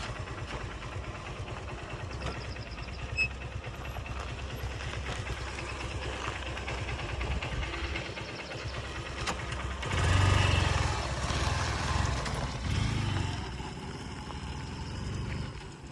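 A 2018 Honda Unicorn motorcycle with about 50,000 km on it runs steadily at idle, a low even engine drone that swells briefly louder around the middle before settling back.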